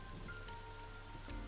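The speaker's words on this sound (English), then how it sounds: "A parasol is getting pelted by the rain." Rain pelting a parasol in the video game AI The Somnium Files, a steady, dense patter of drops drumming on fabric, soft and continuous with faint tonal game ambience underneath.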